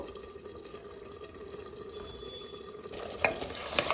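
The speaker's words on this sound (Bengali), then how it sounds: "এটা 5 থেকে 7 মিনিট ঠিক এইভাবে ঢাকনাটা দিয়ে আমি এটা ভালোভাবে কষিয়ে নেব" Mutton with nut paste sautés under a lid in a pan for a mutton korma, giving a faint, steady low sizzle with a few soft clinks and stirring sounds near the end.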